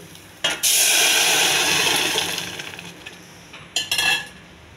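Strained lentil cooking water is poured into a hot tempering pan and hisses in a loud, broad sizzle. The sizzle fades over a few seconds, then a second brief sizzling burst follows near the end.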